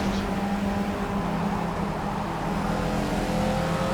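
Caterham race car in Project Cars drones loud and steady at close range, its engine tone shifting slightly as it drops gears, with no talking over it.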